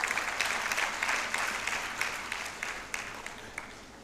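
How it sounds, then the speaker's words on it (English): Audience applause at an International Women's Day event honoring a university vice chancellor, steady and fairly distant clapping from a large crowd, sustained for several seconds and tapering slightly. "Let's clap for her"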